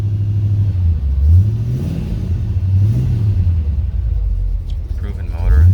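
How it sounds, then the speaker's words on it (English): A 1950 Chevrolet 3100 pickup fitted with a 350 crate motor runs nearby, its low engine rumble steady with a couple of gentle rises in pitch as it revs slightly, while someone talks over it throughout. "Truck runs great."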